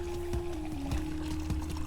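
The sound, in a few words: Aztec chocolate drink poured from a height to make foam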